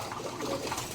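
Pigeons kept by a fancier in a breeding loft coo softly and steadily through a short, continuous stretch, with no talk over it.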